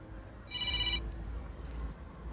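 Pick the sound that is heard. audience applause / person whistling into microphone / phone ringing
phone ringing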